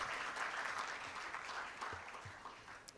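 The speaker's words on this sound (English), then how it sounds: "Please give a round of applause to welcome our distinguished guest today." An audience at a student tech event claps to welcome a distinguished guest, a faint, distant wash of applause that thins slightly toward the end.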